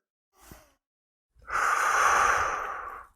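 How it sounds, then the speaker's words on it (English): Deep breathing during a neck stretch: a short breath in near 0.5 s, then a long, steady, airy exhale lasting about a second and a half, close and clear with no talking. "we're going to do 10 deep breaths here"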